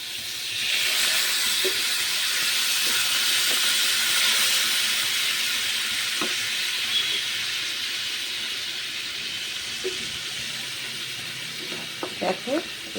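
Water poured into a hot curry sets off a loud, broad sizzling hiss that slowly fades, with light clatter of utensils and faint background voices.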